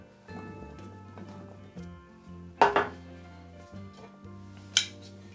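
Potatoes dropped into a pan of cold olive oil, a few close clattering knocks and scrapes against the pan over a low steady hum.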